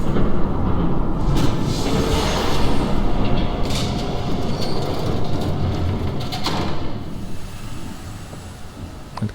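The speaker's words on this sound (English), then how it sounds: "There's a train coming." A train passes in the video game Batman: The Telltale Series, heard as a loud, broad rushing rumble with hissing and faint metallic clatter that slowly fades toward the end.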